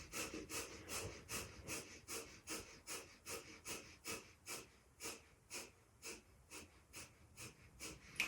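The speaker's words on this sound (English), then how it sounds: "breath of fire, which is a light breathing like sniffing, and we're going to be pumping the" A person performs breath of fire, a rapid breathing exercise of light sniffing breaths driven by the diaphragm. The short, even bursts come steadily at about two per second, close and fairly soft, with no speech.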